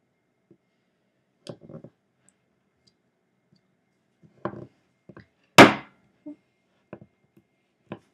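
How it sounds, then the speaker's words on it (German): A sharp knife cuts through chilled chocolate peanut butter bars with a hard chocolate top, giving sparse close taps and cracks, one sharp loud snap mid-clip, in otherwise quiet surroundings. "Ich habe mir jetzt noch ein scharfes Messer geholt und einen Teller, da will ich die dann draufpacken. Und ich würde jetzt einfach anfangen, die zu schneiden"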